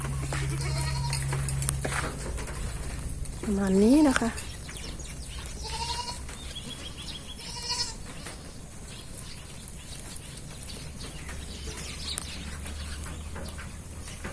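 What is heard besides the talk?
goats bleating while being let out to graze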